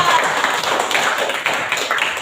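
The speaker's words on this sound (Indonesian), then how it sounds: "Beri tepuk tangan untuk kelompok 2" A classroom group claps for group 2 after a presentation, a dense, steady burst of many hands lasting throughout, close and fairly loud with no break.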